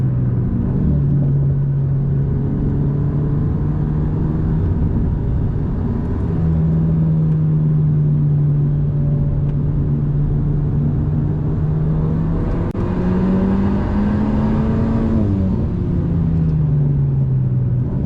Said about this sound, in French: On lève le pied, on accélère gentiment. Allez, on accélère, on accélère, on accélère.